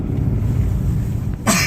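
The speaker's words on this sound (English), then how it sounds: "Excuse the cough." A single sharp cough bursts out near the end, cutting through the steady low rumble of a car interior while driving.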